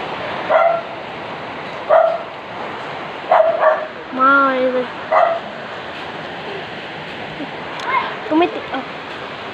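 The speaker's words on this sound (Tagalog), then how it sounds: "Wow, yung mga aso nababasa na dito." Dogs bark in short repeated yips and barks, fairly near, over a steady wash of rain during a stormy flood in Cavite, with a person speaking at moments.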